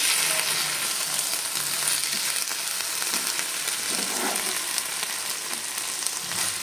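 Ginger garlic paste fries loudly in a pan, a dense continuous sizzle close up, with occasional scraping and stirring strokes underneath and no talking.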